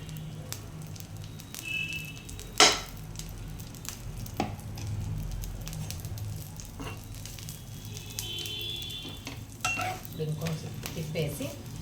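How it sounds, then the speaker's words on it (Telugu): A chapati cooks with ghee on a hot pan, giving a soft continuous sizzle with occasional scrapes and clinks of a utensil against the pan, close and moderately quiet. "ఇంకొంచెం తిప్పేసి ఈ పక్క కూడా నెయ్యి వేసుకోవాలి"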